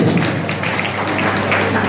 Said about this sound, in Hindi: जरा इनके राम सज्जन भाई के लिए एक बार ताली बजाकर स्वागत करिए।